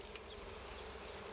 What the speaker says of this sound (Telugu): ఆగరా, లోపల ఈగలు ఉన్నాయిరా.